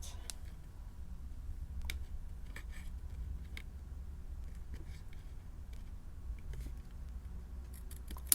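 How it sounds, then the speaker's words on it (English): Scissors trim the edges of card paper for a handmade greeting card, a quiet series of crisp snips and ticks spread unevenly over several seconds against low background hum. "And I'm just going to trim those off to sides."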